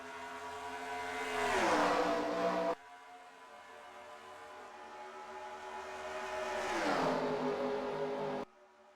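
Stock car engines at Fontana in the NASCAR Racing 2003 video game, two loud pass-bys that rise in pitch, drop with a Doppler sweep, then cut off abruptly.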